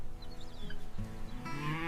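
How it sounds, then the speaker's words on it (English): Cows graze freely on a dairy farm, letting out low, drawn-out moos that swell into a louder call near the end. The calls sound fairly close, with no talk over them. "It all begins here, on a farm where the cows graze freely."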